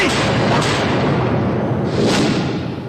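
Two heavy booming gunshot effects land about a second and a half apart, loud and reverberant, each decaying into a dense rumble.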